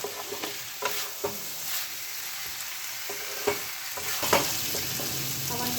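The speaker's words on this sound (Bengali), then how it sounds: "আমার কিন্তু পোস্তটা আলুর সঙ্গে ভালো করে মাখানো হয়ে গেছে" Potato pieces are coated in poppy seed paste and fried in a pan. A continuous close sizzle runs under scattered scraping and clinking stirring strokes, with no voices.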